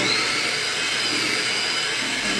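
A blender pulses a strawberry and Greek yogurt mixture into a puree, giving a steady, close, loud whirring motor roar that runs unbroken through the whole stretch.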